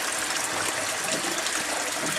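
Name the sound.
water flowing out of a 1.5-inch pipe in aquaponics system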